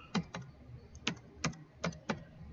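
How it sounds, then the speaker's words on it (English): Fingers tapping out a word on a computer keyboard while setting up a Windows 10 remote desktop connection: six sharp, close keystrokes in an uneven rhythm, with quiet gaps between them and no voices. "I'm going to type in remote"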